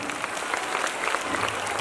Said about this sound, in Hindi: और जोर से तालियां